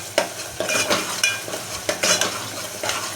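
A spoon stirs and scrapes masala frying in hot oil in a pan, giving repeated sharp scraping strokes every half second or so over a low sizzle, close and clear, with no talking.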